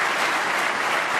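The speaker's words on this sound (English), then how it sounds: "And both parents applauding that shot." A snooker crowd at the 2015 World Championship final claps after a shot, a dense, even burst of applause filling the hall with no voices over it.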